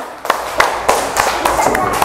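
Children clapping in a primary school classroom, about seven sharp claps in an uneven rhythm, close and loud, with chatter underneath.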